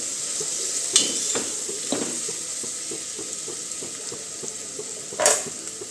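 Chopped onion sautéing in oil with asafoetida, a steady, even sizzle throughout, punctuated by a few sharp spoon-on-pan clanks and scraping stirs close by.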